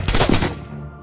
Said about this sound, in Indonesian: Pada akhirnya, polisi menembak Iko dan kemudian membunuhnya